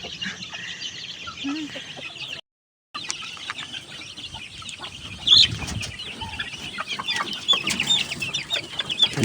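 Chickens cluck and murmur around the listener at a chicken farm, a busy flock with occasional flapping wings and a brief dropout partway through.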